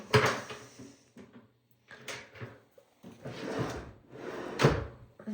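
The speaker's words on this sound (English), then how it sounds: "Soft closed drawers and doors." Soft-close drawers and doors in an updated bathroom slide shut in several separate actions, each with a muffled thud and rustle, separated by brief quiet gaps.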